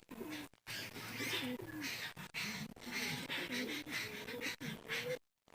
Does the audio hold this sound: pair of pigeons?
yes